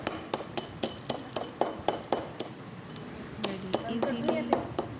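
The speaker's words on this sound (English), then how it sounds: "Today I am making crushed glass" Glass crushed for resin art: a long run of sharp, close strikes and clinks at an uneven pace, some ringing briefly with a glassy tone, over faint background noise.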